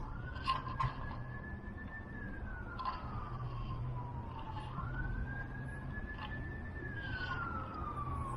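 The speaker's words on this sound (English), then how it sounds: "Sorry for the sirens." Emergency vehicle sirens pass outside, a wailing tone rising and falling in slow sweeps at moderate distance over a steady background rumble.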